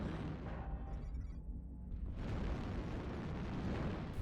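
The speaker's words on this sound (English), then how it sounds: "Artillery strike online." Artillery strike in an online shooter game: a heavy, sustained rumbling blast that fills the whole clip, swelling loud and dense with a brief thinning midway before roaring back.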